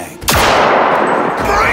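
A single loud gunshot from a firearm in the Cyberpunk 2077 video game cracks out sharply and close, followed by a long, bright ringing decay that fills the rest of the moment with no talking.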